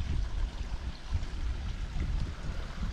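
Steady flow of water from a small forest stream in the Aravali hills, a continuous low rushing and gurgling murmur heard up close with no talking.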